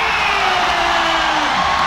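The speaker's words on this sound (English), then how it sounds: "And listen to this crowd roar!" A packed basketball arena crowd roars in a dense, sustained wall of cheering and shouting at a professional ASEAN league game, loud and unbroken.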